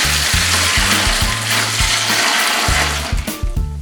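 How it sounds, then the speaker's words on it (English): Steeped liquid brine is poured from a container into a cooler filled with bagged ice, making a loud, continuous gushing and splashing that tapers toward the end. "we're going to pour in our liquid that's been steeping"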